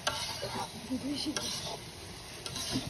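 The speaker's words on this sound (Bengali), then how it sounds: "একজন পোলা ভাজে নিচ্ছে, একজন গোশ রান্না করতেছে" Two cooks stirring pulao rice and cooking meat with garlic in pans, giving steady sizzling with intermittent scraping and clinks of utensils, moderately close and fairly quiet with faint background voices.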